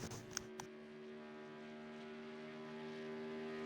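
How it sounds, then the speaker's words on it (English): A Mercedes V8 race car engine in a Le Mans racing video game drones steadily with a sustained harmonic tone, quiet and moderately distant, after a couple of brief clicks. "Listen to that V8."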